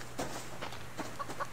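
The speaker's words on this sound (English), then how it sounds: "There's a chicken" Chicken on a rocky island in the survival game Subsistence, a few short soft clucks spaced apart over a low steady ambient hum, with no voices.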